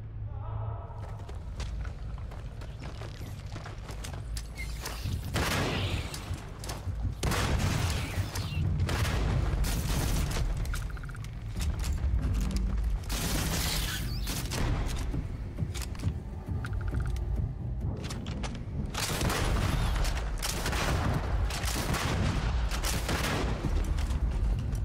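Bursts of rapid gunfire and thuds crack through a Starfield video game shootout, dense and loud in repeated volleys, with a voice talking over the action at times.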